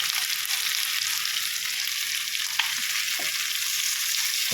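Fish fries in hot oil with a loud, constant sizzle and frequent sharp spluttering pops, close up, with no talk.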